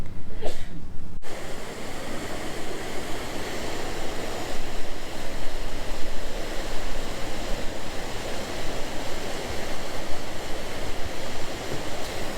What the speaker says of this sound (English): I guess this is why it's called Creek Street, because we've got this cool creek.